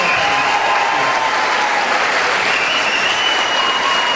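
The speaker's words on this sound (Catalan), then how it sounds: "de veritat que demanaria que els hi féssiu un aplaudiment" Loud, dense applause from a crowd at an outdoor calçotada gathering at a cava winery, an unbroken wash of clapping with a faint crowd murmur.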